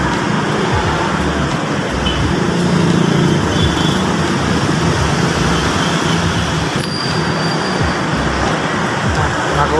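Road traffic building up around a motorcycle and a tricycle stopped on a street, a dense steady rumble of engines and tyres nearby, loud and continuous with faint voices mixed in.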